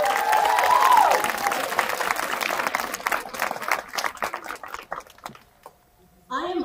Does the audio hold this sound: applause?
yes